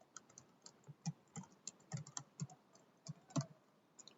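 Keys clatter on a computer keyboard in uneven bursts while a file name is typed, close and fairly quiet with short pauses between clicks.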